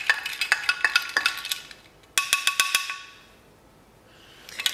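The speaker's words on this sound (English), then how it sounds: "Give it a little stir." A keto maple fizz cocktail, sweetened with syrup and holding melting maple leaves and gold glitter, is stirred with a spoon, giving a run of quick bright clinks against the glass, a short pause, then another burst of clinking.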